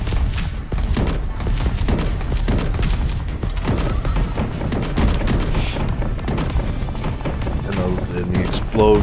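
Rapid, continuous booms and blasts from missile explosions in Missile Command Recharged, thudding one after another at close range with barely a pause.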